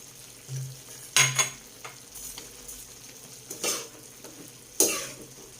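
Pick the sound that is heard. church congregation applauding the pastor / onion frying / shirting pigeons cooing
onion frying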